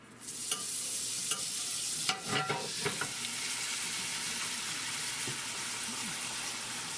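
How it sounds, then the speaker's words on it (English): Butter melting in a cast iron pan gives a steady, fairly quiet sizzle, with a few sharp clinks and scrapes near the start and middle and no talking. "maybe about half a tablespoon, not even that, of butter. And I'm going to put that right inside my cast iron pan."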